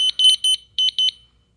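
A DFGJLVF interconnected wireless smoke and CO alarm sounds a loud, shrill beeping pattern of short bursts, two groups of pulses separated by a brief gap, alone with no talk.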